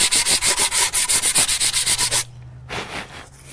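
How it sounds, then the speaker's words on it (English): Rhythmic back-and-forth strokes of sandpaper rubbing on wood, about a dozen quick even passes, then a pause and a few lighter strokes. "just a little bit of sanding"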